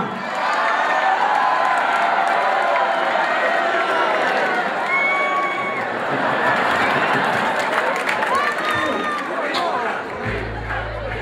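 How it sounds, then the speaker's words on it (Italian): Concert audience applauding and cheering in a dense, steady wash of clapping with scattered shouts, loud throughout and briefly overlaid by a low hum near the end. "applauso."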